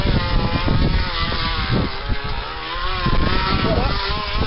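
A rough, buzzing engine-like drone imitates a motorcycle accelerating, made with a plastic bottle, loud and continuous with sputtering pulses and no talking.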